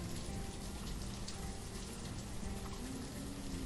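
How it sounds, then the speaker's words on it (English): Steady hissing rainfall in the city-building video game Banished, an even, continuous patter of drops with no pauses or voices. "So that, yeah, that's the rain."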